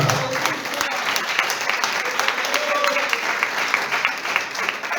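Congregation applauding steadily during an evening church service, dense continuous clapping from a large crowd that holds at an even level for the whole stretch, with a preacher's voice carrying over it.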